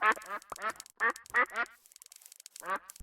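Ducks in the TerraFirmaCraft game quack in a quick series of loud, nasal calls, several in succession with short pauses, clear and alone.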